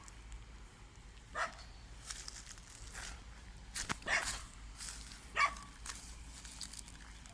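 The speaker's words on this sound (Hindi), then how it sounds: "डॉगी भी बिल्कुल उसकी तरफ देख के तो भौंक रहा है" A few sharp dog barks, spaced irregularly and somewhat distant, over a quiet outdoor background with faint rustling.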